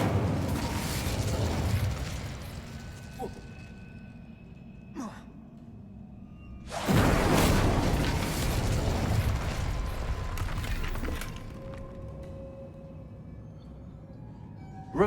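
An Incendio fire spell bursts in Hogwarts Legacy, a broad whooshing roar of flame that swells heavily midway and slowly fades, layered over ambient game sound, with no speech.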